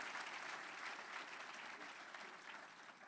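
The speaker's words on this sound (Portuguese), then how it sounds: "eu queria pedir uma salva de palmas para ela" Audience applause at a business talk, a steady dense clapping from a crowd that holds evenly throughout without pause.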